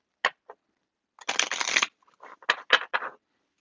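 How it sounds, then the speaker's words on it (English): Playing cards are shuffled close by in a few separate bursts: brief taps and flicks, then a long riffle of rapid, crisp fluttering, then several short riffles. Quiet pauses fall between bursts, and no one speaks. "I'm going to do a couple shuffles back here"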